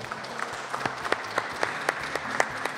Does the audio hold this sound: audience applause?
yes